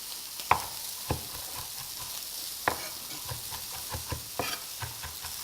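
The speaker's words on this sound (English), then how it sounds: "Just keep flipping those meatballs until they're fully cooked" Asian-style meatballs sizzle steadily in a frying pan while a utensil flips and stirs them, with sharp scrapes and clinks against the pan at irregular intervals over the continuous fry.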